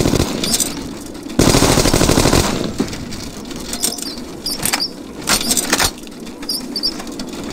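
Gunfire from the video game No One Lives Forever 2 rattles out in loud automatic bursts, one long volley followed by shorter clattering shots and bursts over steady game ambience.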